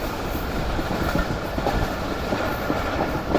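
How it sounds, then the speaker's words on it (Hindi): Jaffer Express train passing through Kharian railway station, heard from on board with a Chinese locomotive: steady loud rumble and clickety-clack of wheels over rail joints, continuous with no talk. "तो ये ट्रेन स्किप कर रही है खारियाँ रेलवे स्टेशन को"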